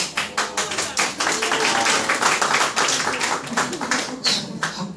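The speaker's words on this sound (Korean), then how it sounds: "학교 자퇴하고 박수를 쳐줄 곳은 여기밖에 없어요" A crowd applauds steadily throughout, many hands clapping in a dense, continuous wash with rhythmic surges, fairly loud and close, with no talk over it.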